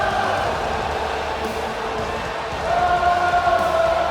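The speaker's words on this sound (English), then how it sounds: "The crowd is singing for the architect as Seth Rollins has entered the building." A wrestling arena crowd in WWE 2K23 sings in unison for Seth Rollins as he enters, a steady, dense wash of massed voices with a sustained chant-like tone rising slightly toward the end.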